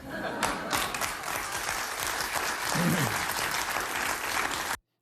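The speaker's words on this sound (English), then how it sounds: "Listen to that hollow clapping." A live TV studio audience claps in a dense, even burst that runs steadily and then cuts off sharply, with a brief voice heard under the applause.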